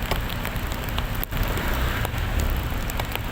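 Heavy rain pours down steadily during a typhoon, a dense, continuous wash of loud drumming with a brief dip in the middle and no voices.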